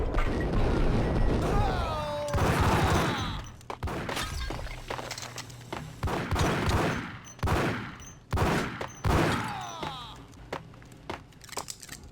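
Gunfire in the Max Payne video game, bursts of shots and crashing impacts in uneven clusters, loud and close, mixed with voices and game effects.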